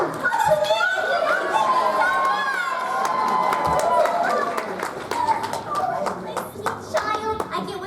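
Applause and scattered cheering from a convention panel audience at a pony fan event, steady hand-clapping filling the room alongside overlapping voices and a child's speech.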